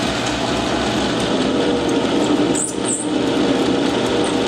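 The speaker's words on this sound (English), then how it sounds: "Bogging the lathe down" A 9-inch South Bend lathe takes a heavy cut in leaded stock with a negative-geometry toolholder, giving a loud, steady grinding machine drone that strains and dips briefly near the end.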